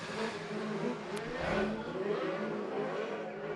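Autograss racing cars accelerating hard around a dirt track at Evesham, engines revving and roaring continuously, swelling as a car passes near, loud with no talk.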